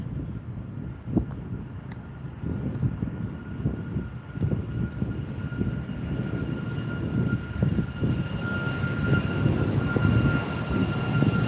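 A jet airliner takes off from LAX, heard from the nearby beach as a steady, loud engine roar that builds over several seconds, with broadband rumble and a faint high whine.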